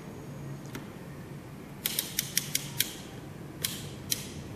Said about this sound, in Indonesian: Pertama, kita putar ampere meter ke batas ukur